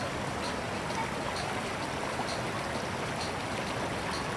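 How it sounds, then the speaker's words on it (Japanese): Snowmelt water of the Matsukawa river, fed from the Hakuba Sanzan headwaters, rushes past a bridge in a steady, continuous hiss and gurgle, heard fairly faint and alone without talk. "白馬三山の源流に雪解け水が集まる松川にやってきました。"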